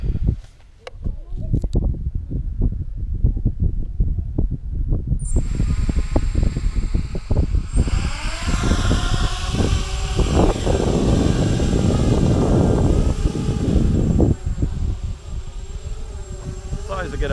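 An FPV racing quadcopter takes off and flies outdoors, its rotors a loud, close, buzzing whine that rises and shifts in pitch, with a person talking at times.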